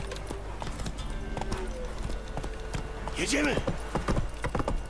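A horse clip-clops at a trot in the video game The Witcher 3 as its hooves beat a steady rapid rhythm. Someone speaks loudly over it and a short neigh-like call comes near the end.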